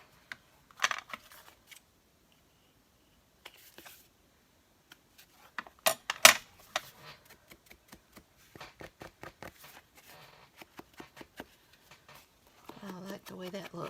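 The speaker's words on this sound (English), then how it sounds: "Just kind of nip those corners just a tad." Scissors nip the corners of paper tags during a fall tag craft, giving a few faint, short snips scattered between pauses, with light handling of paper, up close and quiet.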